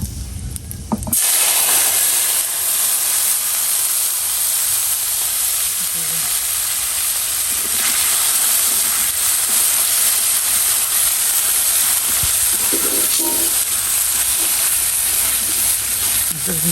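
Spice masala sizzles in hot oil with cumin and bay leaf as it is sautéed in a pan, a loud, steady frying hiss that starts abruptly and continues unbroken to the end.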